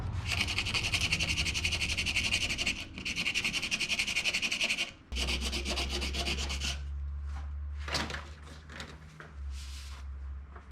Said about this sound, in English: I'm going to get some sandpaper And I'm going to clean this all up real nice, just using some good old 1000 grit